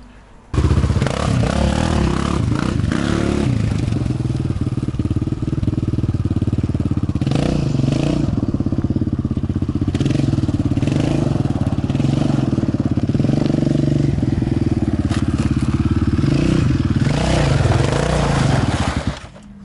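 A Yamaha Raptor 700 ATV engine runs steadily and loudly close by while riding through fresh snow on summer tyres, a continuous throaty drone with slight rises and falls in revs throughout, cutting off at the end.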